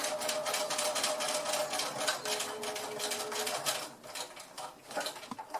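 A sewing machine stitching a small fabric pocket bag runs in a fast, steady mechanical rattle close by, briefly slowing and pausing near the end before starting again.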